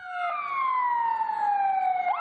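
Sirens from a convoy of new ambulances heading into Istanbul, several wailing tones sweeping slowly downward together, loud and continuous with faint road noise beneath.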